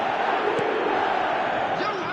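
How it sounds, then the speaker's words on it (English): A stadium crowd in the eFootball 26 football game on PS5 keeps up a loud, continuous roar of cheering from start to finish, with a commentator talking over it. "Now the crowd are demanding that they just finish this off."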